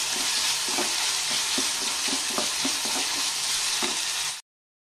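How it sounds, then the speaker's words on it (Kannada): Chopped tomatoes fry in a hot pan with a steady, close sizzle, punctuated by soft stirring scrapes, for a vegetable bath dish; the sound cuts off abruptly near the end. "ಈಗ ಹೆಚ್ಚಿಟ್ಕೊಂಡಿರೋ ಟೊಮೊಟೊ ಹಣ್ಣು ಹಾಕ್ತೀನಿ. ಟೊಮೊಟೊ ಸಹ ಚೆನ್ನಾಗಿ ಫ್ರೈ ಆಗಬೇಕು."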